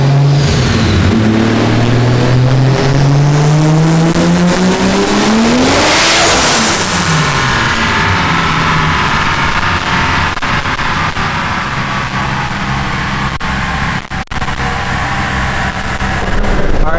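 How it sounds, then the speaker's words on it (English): A 2JZ big-turbo Nissan Cefiro engine revs hard on a dyno, climbing steadily in pitch through a full loud pull, peaks with a rush, then winds down into a lower rumble. "we are just about ready for the first dyno pull"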